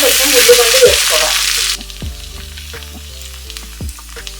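Onions frying in oil for prawn stir-fry noodles, a loud bright sizzle that cuts off abruptly, followed by quieter clatter and tapping from stirring in the pan.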